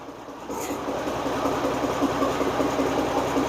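International Harvester TA tractor engine running steadily while the machine creeps forward, a close, continuous rumbling drone with faint rhythmic clatter and no voices.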